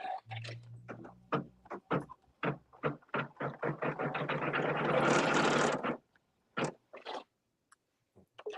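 A Janome Continental M17 sewing machine stitches a barn quilt design, a close, rapid mechanical clatter of needle strokes that speeds into a dense whirring run, then stops, followed by a few isolated clicks.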